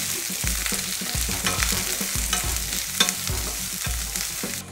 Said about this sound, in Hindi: इसमें हम 1/2 कप स्लाइस्ड अनियन डाल देंगे, 1/2 कप स्लाइस्ड कैप्सिकम डाल देंगे और एक स्पैचुला की मदद से इसको स्टर कर लेंगे।